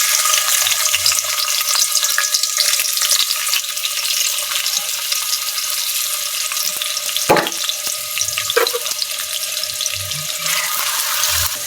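Whole spices such as cardamom frying in hot oil in a wok for beef curry, a loud continuous sizzle with a couple of sharp clatters from a spoon or utensil, no voices.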